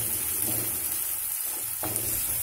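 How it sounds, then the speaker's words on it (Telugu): Pieces of ginger and garlic fry in a pan with a continuous soft sizzle and a brief stir or scrape partway through, with no one speaking. "ఇది కూడా పచ్చివాసన పోయే వరకు వేయించాలి"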